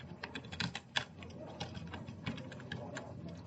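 Rapid typing on a computer keyboard, irregular clicks and taps in quick bursts, close and fairly soft, with no talking.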